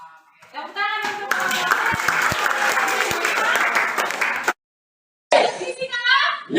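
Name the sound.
audience applause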